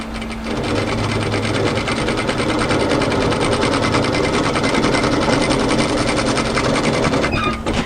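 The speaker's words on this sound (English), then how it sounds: "I'm going to run a second line of top stitching parallel to the first" A sewing machine runs a long, steady line of top stitching along a hooded jacket's button placket, its fast needle chatter close and continuous before stopping at the end.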